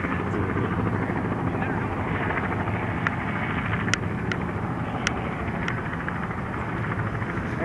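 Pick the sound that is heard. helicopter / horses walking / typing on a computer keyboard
helicopter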